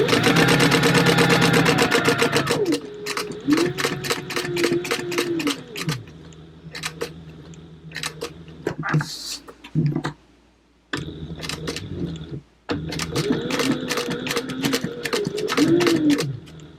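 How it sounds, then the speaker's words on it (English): Sewing machine stitching fabric for a printable pattern project, running in bursts of rapid mechanical clatter with short pauses between runs, close and fairly loud, with a few brief stops and restarts. "so while we're at the sewing machine"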